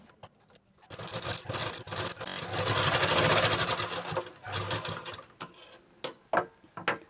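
A sewing machine stitches fabric for a katori blouse in rapid, rattling bursts, speeding up and slowing with short pauses between runs, close and moderately quiet.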